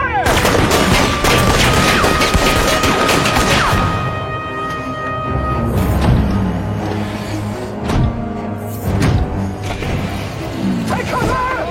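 A volley of gunfire from a line of soldiers ordered to fire, loud and dense bursts of shots crackling through the first few seconds, then scattered booming shots and clattering impacts trailing off, with no speech.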